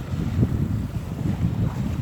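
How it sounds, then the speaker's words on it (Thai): Strong wind buffets a small boat at sea during a night of checking crab nets, a steady low roar with gusty rumble and wave wash, close and continuous. "โดนลมอีกแล้วครับลมทั้งคืนเลย"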